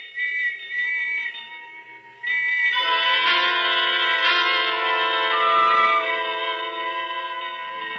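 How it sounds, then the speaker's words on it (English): Loud, steady whistles blow continuously, with a second, higher whistle tone joining partway through and overlapping until the end. "And the whistles and bells all around."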